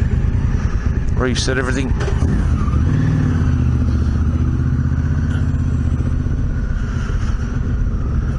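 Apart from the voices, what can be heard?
motorcycle engine running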